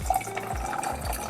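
A shaken cocktail with a lemon rind garnish is poured into a fancy wine glass, giving a close, steady liquid splash and trickle that runs the whole short moment without talk.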